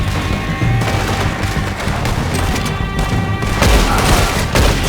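Rapid, dense gunfire during a shootout in the video game Red Dead Redemption 2, loud overlapping shots and booms packed together in bursts, with a few heavier blasts near the end.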